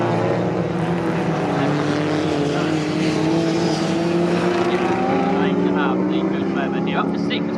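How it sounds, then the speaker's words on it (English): Race cars in a British Endurance Championship race at the Snetterton circuit, including a Mercedes and a Porsche, drone loudly and continuously as engines pass, their pitch shifting steadily while a commentator talks over them. "here comes John Dillon to the left-hand side of the circuit, but the Mercedes just about has the grunt"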